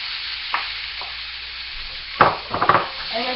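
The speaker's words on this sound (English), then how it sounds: "In my other skillet, I'm going to throw out my ground beef" Ground beef frying in a skillet, a soft steady sizzle broken by a few scraping stirs and spatula knocks against the pan near the end.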